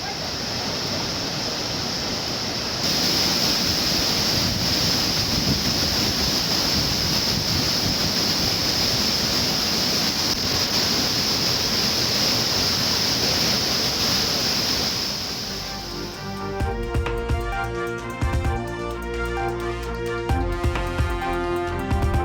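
Courtallam waterfalls swollen by heavy rain roar in a dense, continuous rushing wash, loud and unbroken until a sudden cut, after which musical tones take over.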